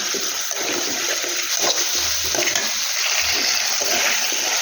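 A spiced mixture is sautéed in a pan, giving a loud, dense, continuous sizzle and hiss with occasional low scrapes and thumps from stirring.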